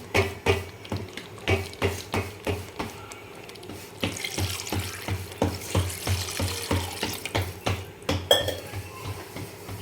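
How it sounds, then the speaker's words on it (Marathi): Water splashes into a pot of spicy village-style fish curry, with rhythmic metallic clanks of a utensil against the pot repeating steadily, close up with no talk. "तर आपण याच्यामध्ये आता पाणी सोडून घेऊ"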